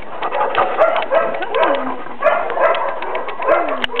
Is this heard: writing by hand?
no